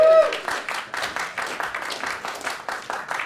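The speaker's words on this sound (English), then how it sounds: "Round of applause." An audience at a corporate workshop in New York claps in a rhythmic burst of applause, with a voice talking over the clapping.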